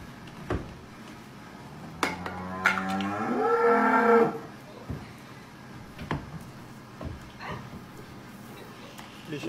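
Goats bleat in a video played back in a room, with a long wavering cry near the middle and scattered clicks and knocks around it, while someone talks over parts of it.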